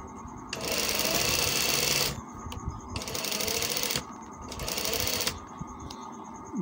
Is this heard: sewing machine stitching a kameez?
yes